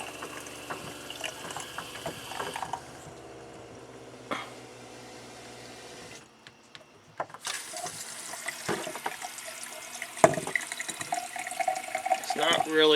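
Water runs from a camper shower with low pressure, surging and dying away in uneven spurts; faint splashing and hiss near the microphone, with a short lull partway through.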